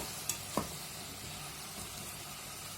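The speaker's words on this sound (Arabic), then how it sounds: "نزيد عليهم الملحه والابزار والثومه، صافي نخلطوهم ونخليهم يتقلاو." Pumpkin, spices and garlic fry in a pot for soup, giving a soft, steady sizzle with a couple of brief clinks from stirring near the start, faint and close.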